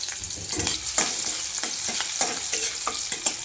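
Crushed green chillies fry in hot oil for sabudana khichdi, a close steady sizzle broken by frequent quick scrapes and clicks of a spatula stirring the pan.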